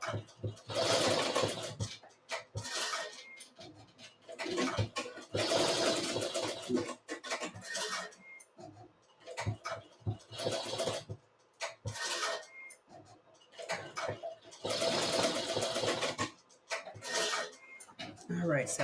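Two sewing machines stitching at once, fast buzzing mechanical runs that start and stop in bursts of a few seconds, close by and moderately loud, with a person talking between and over them.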